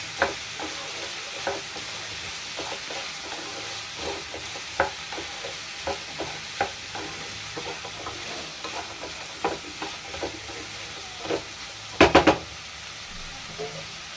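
Potato fry being stirred in a pan with a spoon, a quiet sizzle underneath with scattered scraping taps and a brief louder clatter near the end, no voices.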